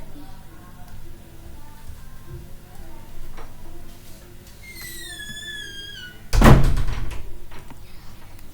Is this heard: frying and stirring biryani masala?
no